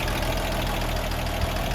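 A Ford F150 truck engine runs steadily at idle, a continuous low, even rumble with no pauses and no voices.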